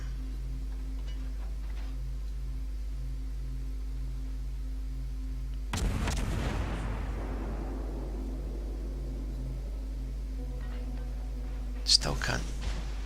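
Warship guns firing in the naval combat game World of Warships: a deep booming salvo crashes in and rumbles away amid a steady engine drone, followed later by a sharper, shorter blast.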